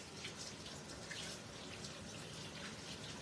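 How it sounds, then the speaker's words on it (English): Kitchen tap water running steadily as a kitchen item is rinsed, a faint, even splashing hiss that continues unbroken, with no voices. "We'll just give this a rinse."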